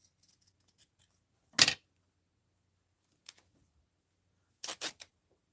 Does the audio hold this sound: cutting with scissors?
yes